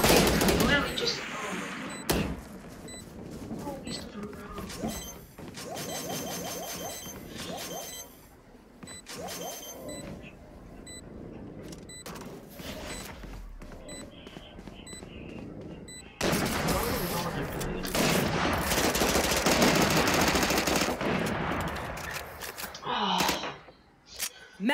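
Bursts of gunfire in the video game Valorant, scattered shots and short volleys mixed with game effects and a loud stretch of action near the end, with a person talking over parts of it.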